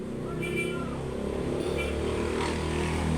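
Motorcycles pass on a nearby road, a continuous loud rumble of mixed engines with rising and falling pitch as they go by, steady throughout.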